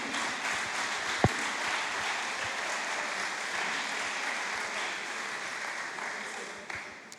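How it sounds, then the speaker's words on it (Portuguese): A church congregation applauds during a sermon, steady broad clapping held at an even level for several seconds, with a single sharp knock near the start. "Aplaude a Jesus aí,"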